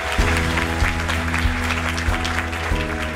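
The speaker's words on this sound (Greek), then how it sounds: "Ένα χειροκρότημα για τους άνδρες που είναι εδώ σήμερα" A seated audience at a mental health awareness event claps together, a dense, sustained round of applause that keeps an even level throughout with a steady low hum underneath.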